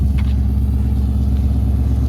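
A Ford Mustang engine with a Steeda cold air intake idles with a low, steady rumble, close and continuous, with a slight rise in revs near the start, as cars are moved.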